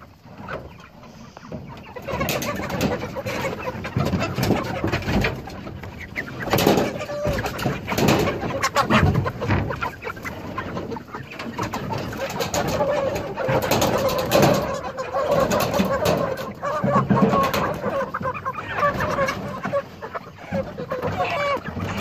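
Chickens in a Salatin-style pen cluck and flutter close by, a busy continuous jumble of bird calls and shuffling, with someone talking intermittently over them.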